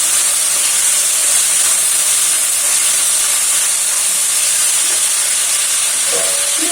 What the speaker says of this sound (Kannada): ಈಗ ಟೊಮೊಟೊ ಸೇರಿಸ್ಕೊತೀನಿ.